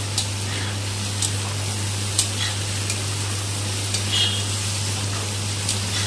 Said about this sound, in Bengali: সব ভাজা হয়ে গেছে